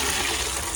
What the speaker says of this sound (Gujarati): ચલો હું પાણી નાખી દઉં. ઓનલી ફોર એક જ છે પાછી. હા ફૂલછોડમાં પાણી નાખી દઉં હું.